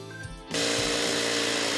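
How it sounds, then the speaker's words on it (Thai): A grass trimmer engine revs up and runs loud and steady at close range. Rice farmers in Surin, Thailand, use it in the fields to lure mole crickets, and it plays with no talking. "ได้ยินเสียงไหมล่ะใช่เสียงคุ้นๆเครื่องตัดหญ้านี่แหละค่ะชัดเลย"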